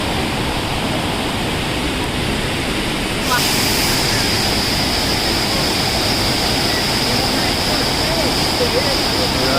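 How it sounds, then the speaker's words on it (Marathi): Savdav waterfall near Kankavli in the Konkan roars loudly and steadily, a dense broadband rush of falling water that swells slightly partway through, with a voice speaking over it. "किती सांडून वाहतोय धबधबा"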